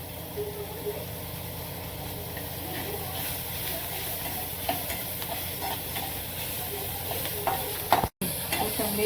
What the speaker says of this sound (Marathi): टोमॅटो कांदा छान परतून द्यायचं